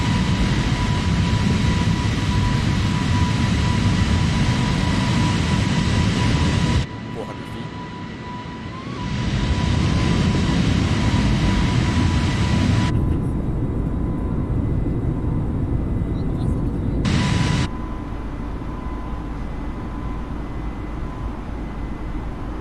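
An Airbus A320 roars through its takeoff roll and climb in Microsoft Flight Simulator, a loud continuous jet engine drone with a steady whine that drops briefly partway through before returning, with a pilot calling out over it.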